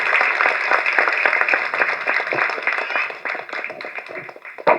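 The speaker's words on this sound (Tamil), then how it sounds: "ஸோ எல்லாரும் ஒரு பெரிய கைத்தட்டு தட்டுங்க நம்ம தயாரிப்பாளருக்கு." An audience at a Tamil film audio launch event claps for the producer, giving loud, dense applause that holds steady before thinning out near the end.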